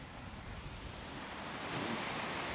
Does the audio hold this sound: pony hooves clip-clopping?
no